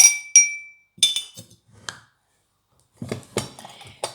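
Bright clinks of a spoon against a drinking glass as ground coffee is added for iced coffee, two sharp taps at the start, then a ringing tap and scattered clatter, close and clear without talk.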